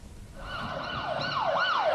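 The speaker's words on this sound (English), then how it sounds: "Sirens wailed through Dunedin's Great King Street as emergency services hurried to the building site" An emergency vehicle siren wails along a city street, its pitch sweeping up and down and growing steadily louder as it approaches.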